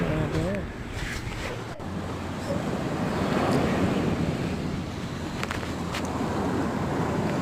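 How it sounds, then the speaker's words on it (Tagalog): Surf rolling in at a seashore as evening falls, a steady broadband wash of waves with wind buffeting the microphone throughout, and faint voices in the background. "nandito tayo sa tabing dagat"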